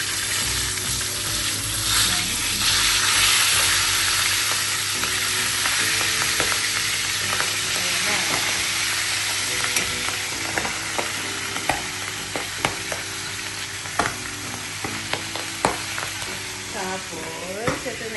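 Milkfish (bangus) fries in hot oil with a loud, steady sizzle and spattering pops, close up, while a voice talks quietly underneath and sharp crackles grow more frequent toward the end.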